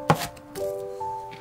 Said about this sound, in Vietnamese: Trước tiên mình băm nhuyễn tỏi và hành tím.